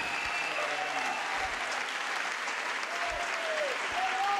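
A concert audience gives loud, sustained applause for a guitarist at a rock band reunion show, a dense steady roar of many hands with faint crowd noise beneath.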